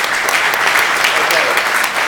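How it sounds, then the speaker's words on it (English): Loud, dense applause from a conference audience fills the whole short stretch, steady and close with no pauses. "Big round of applause for iTry"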